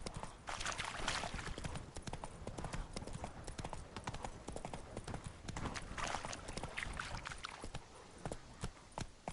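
Roach, a horse in The Witcher 2, gallops steadily with dense rhythmic clip-clop hoofbeats over continuous ambient noise, close and loud throughout.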